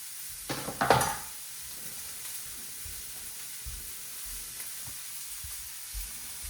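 Meatball mixture sizzles in an overheated frying pan, a steady close hiss with a burst of louder crackle and clatter near the start, then a quieter continuous fry with faint stirring knocks underneath.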